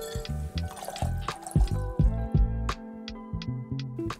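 Blanco tequila, about 1.5 ounces, is poured into a cocktail mixture containing Campari, giving a close series of uneven glugs and splashy drips that sputter and pause.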